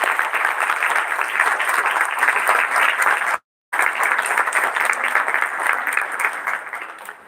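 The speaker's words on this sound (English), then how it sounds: "give a huge amount of applause" A large crowd at a dental program welcoming a guest claps in loud, sustained applause, briefly cut to silence midway before the clapping resumes and slowly tapers.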